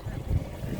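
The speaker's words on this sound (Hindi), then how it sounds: "देखो हवा चलती है" Wind gusting across a cold, snowy mountain setting in Mustang, Nepal, a low rumbling buffet on the microphone that swells briefly and stays close and continuous.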